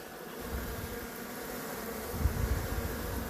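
Honeybees, drones and workers together, swarm at a hive entrance fitted with robbing screens, making a dense, continuous close buzz with a low droning hum that swells slightly near the end.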